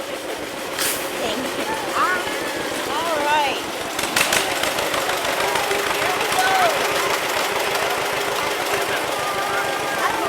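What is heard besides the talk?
tractor engine running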